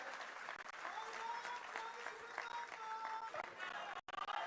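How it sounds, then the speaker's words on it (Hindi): Sustained crowd applause at a BJP election rally in Ambala for a mayoral candidate, dense steady clapping filling the whole stretch with a brief dip near the end, voices mixed in underneath. "तालियां नहीं रुकनी चाहिए साथियों, तालियों से ही कार्यक्रम की शोभा है।"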